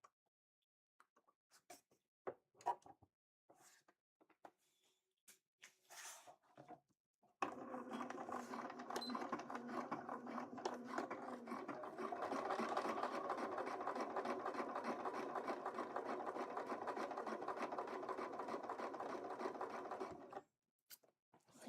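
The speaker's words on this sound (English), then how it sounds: "I think if I keep my seam allowance at about 1/2 inch on the machine, I think it catches both of them." Sewing machine stitching a seam on a Link cosplay costume from The Legend of Zelda: Twilight Princess, a steady close rapid whirring run of about thirteen seconds after a few scattered clicks and handling taps.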